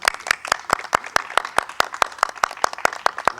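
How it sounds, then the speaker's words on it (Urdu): Steady, evenly paced clapping at a film industry gathering, sharp claps about five per second, fairly close and clear, sounding more like one or a few pairs of hands than a large crowd. "تو میں بہت ساری تالیاں شہزاد رفیق صاحب کے لیے"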